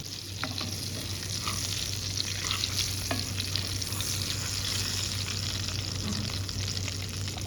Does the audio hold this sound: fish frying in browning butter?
yes